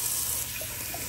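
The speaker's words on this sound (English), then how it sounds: "let's do a quick little cold water rinse" Cold water runs steadily from a tap into a sink during a shave rinse, a close, even hiss of flow with no talk over it.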